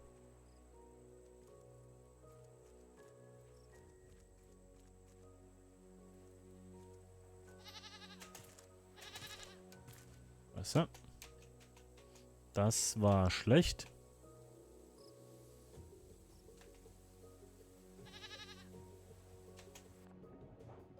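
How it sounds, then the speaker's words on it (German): A goat bleats a few times in the survival video game Raft, its short wavering cries rising over a quiet ambient game soundscape with crickets and water, while someone speaks briefly. "Hey, guck mal, Hai, ich habe eine Ziege."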